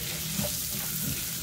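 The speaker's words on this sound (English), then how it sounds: "Gonna roast a little bit of the onions" Onions sizzling and frying in a hot pan as chicken soup is prepared, a steady close crackle running without pause and no voices.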